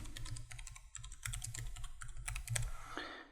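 Computer keyboard keys tapped in short, uneven bursts while a Windows 10 settings search is typed, close and moderately loud over a low background hum, with no voices.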